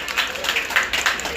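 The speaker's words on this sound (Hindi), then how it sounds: "जोरदार तालियां" Loud applause at a song launch event, a dense patter of many hands clapping in uneven surges, with a voice speaking over it.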